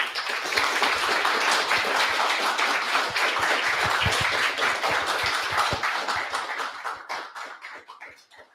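An audience at a robotics meetup applauds a speaker, a full round of clapping that stays strong, then thins into a few scattered claps and fades out.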